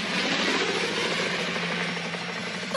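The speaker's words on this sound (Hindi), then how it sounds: "हेलीकॉप्टर नंबर 4 मेडिकल किट के साथ इमरजेंसी लैंडिंग करो।" A cartoon helicopter coming in for an emergency landing, a continuous whirring rotor and engine drone that holds steady and fairly loud throughout, with no voices.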